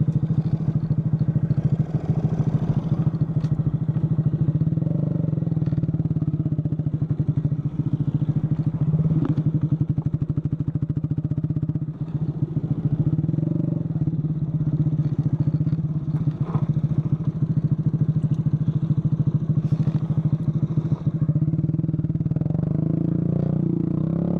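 A stock Honda Grom motorcycle ridden off-road on a trail, its small engine droning steadily and loud close by, with clattering and crackling from the rough ground throughout and no talk.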